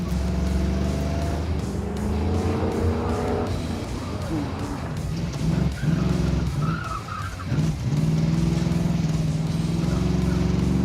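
A Dodge Charger on an autocross course in Las Vegas, its tires skidding and smoking, with a loud engine roaring steadily near the microphone throughout and brief dips and surges as it corners.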